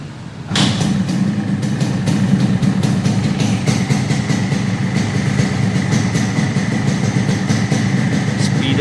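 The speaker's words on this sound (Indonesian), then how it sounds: "Kita dengar suara mesinnya ya," An original blue 2004 Yamaha RX King motorcycle starts up after a short quiet moment, then runs loud and close at a steady idle with a rapid ticking rhythm. No one speaks.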